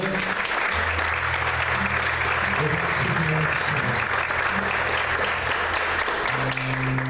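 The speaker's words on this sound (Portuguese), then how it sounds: "Você pode aplaudir o Senhor nesta manhã?" A church congregation applauds during a Portuguese-language service, a continuous dense wash of clapping across the whole clip, with low sustained organ or keyboard tones beneath it.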